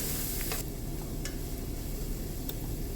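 Onions fry in a pan with a constant, loud, bright sizzle throughout, broken by a few faint clinks and taps of stirring.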